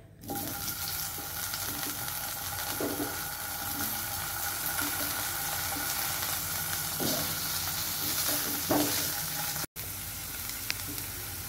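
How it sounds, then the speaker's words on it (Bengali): Potatoes fry in hot oil in a home kitchen, giving a steady, fairly quiet sizzle throughout with a few soft pops and a short break near the end. "তারপরে এই একই তেলে আলুগুলো ভেজে নেবে। তেল গরমই আছে, আলুগুলো এক সাইড দিয়ে দিয়ে তেল ছিটকাবে।"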